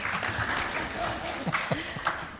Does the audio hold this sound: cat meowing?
no